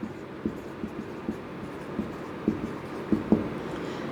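Chalk or marker writing on a board in a chemistry lecture on ionisation energy, with soft intermittent taps and strokes over a low room hum, faint and close.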